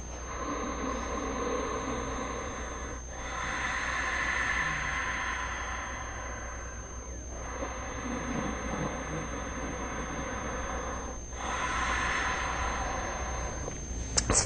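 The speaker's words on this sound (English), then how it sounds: "It's called ocean breathing, and it actually creates the sound of the ocean," Ocean breathing, drawn in and out through the nostrils, makes close, soft, hissing rushes that swell and ebb in slow cycles every few seconds, like distant surf, with no talking.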